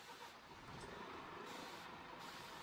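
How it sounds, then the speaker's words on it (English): A shuttle bus on a temporary road between Grasmere and Cottage rumbles steadily nearby while a short hissing air-brake release cuts in, loud broadband noise throughout the brief moment. "A temporary road has been constructed to allow this shuttle bus service to link Grasmere and Cottage."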